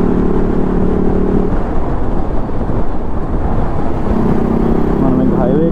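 A TVS Apache RR 310 motorcycle fitted with a K&N air filter, riding toward Guntur, gives a steady, loud engine and wind roar that carries throughout, with a brief rising tonal whine near the end.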